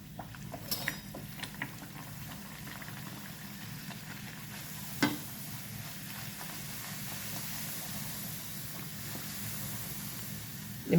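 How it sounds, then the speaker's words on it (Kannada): Small gargi puris sizzling steadily in hot oil, with a continuous low frying hiss and a few sharp pops and crackles near the start and around the middle, no talking. "ಇವಾಗ ಎಣ್ಣೆ ಕಾಯ್ದಿದೆ. ನಾನು ಮೊದಲೇದ್ದು ಗಾರ್ಗಿ ಪುರಿ ಹಾಕ್ತೇನೆ."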